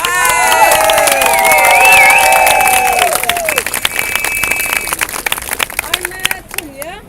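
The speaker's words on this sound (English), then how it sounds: "Everyone big round of applause!" A crowd at an outdoor speakers' corner rally bursts into loud cheering, whistles and clapping, then the applause gradually thins into scattered claps.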